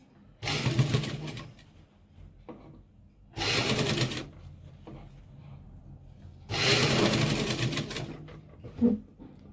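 Sewing machine stitching a coat collar onto the coat fabric, running in three loud bursts of rapid stitching separated by short pauses with faint handling sounds.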